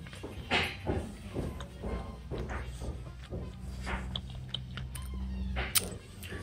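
Someone chews crunchy panini bread at a café, with close, soft, irregular crunching and munching bites over a low room hum and faint background sounds.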